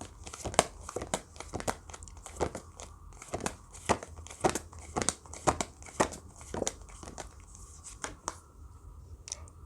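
Tarot cards being drawn and shuffled from a deck at close range, with a steady run of crisp papery flicks and slides and no speech over them.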